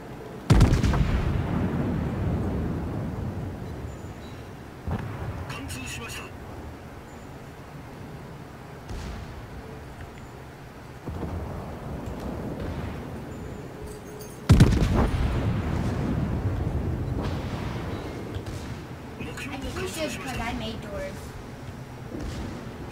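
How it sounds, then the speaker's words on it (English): Naval gunfire in a World of Warships-style battle around a Fuso battleship: heavy artillery booms at about 0.5 and 14.5 seconds, with scattered shell impacts and rumbling between them, under players talking over voice chat. "Everybody's shooting at me."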